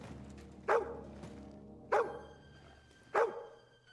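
Three sharp, evenly spaced single dog barks in the medieval video game Kingdom Come Deliverance II, each loud, near and brief, standing above a steady low ambient hum.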